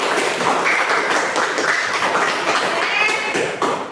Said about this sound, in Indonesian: Beri tepuk tangan dulu untuk teman kalian.